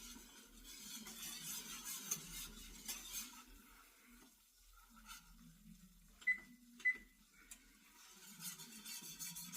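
Whisking a flour sauce in a pan for chicken enchiladas, a soft scraping and stirring sound that runs through most of the clip with a few sharp clinks of the whisk against the pan, fairly close.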